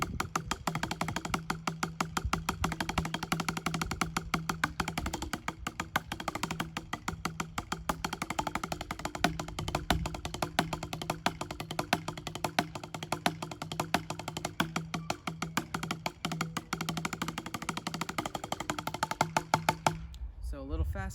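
A drum exercise plays for about twenty seconds, with steady 16th-note rolls and accents moving around the kit. A voice talks over part of it.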